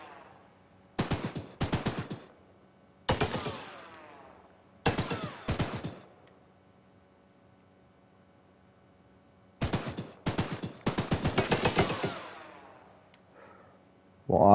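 Bursts of weapon gunfire in the Choo Choo Charles video game come in several separate clusters of rapid, loud shots, with quiet gaps in between and a faint low hum underneath.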